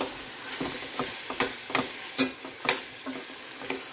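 Mint chutney with oil and ginger paste cooks in a pot, giving a close, moderate sizzle broken by a series of sharp stirring scrapes and clinks at an irregular rhythm, with no talking.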